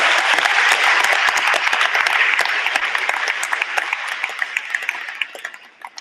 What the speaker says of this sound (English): So give your families and those clubs that round of applause right now.